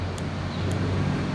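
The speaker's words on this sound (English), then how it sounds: "Here we can listen to the cars. Listen to the highway." Steady broadband roar of cars passing on a nearby highway, a continuous rumble with a low drone and no distinct pass-bys, heard from close by outdoors.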